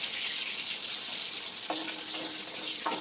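Onions fry in a kadai with a steady, bright sizzle that runs the whole time. Faint clinks cut in briefly near the end.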